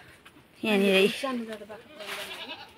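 Goats bleating near their shed, one long wavering bleat followed by shorter calls, close and fairly loud, with a person talking quietly in between.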